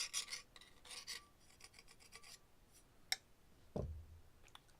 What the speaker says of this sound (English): So just scrape off some of the glue that might be on there.